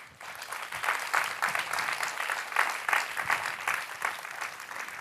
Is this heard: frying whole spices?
no